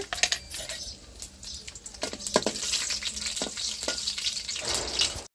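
Mustard seeds and dried red chillies sizzle and crackle in hot oil on a wood-fired stove, with a steady frying hiss and sharp scattered pops and spits throughout, close and fairly loud with no talk.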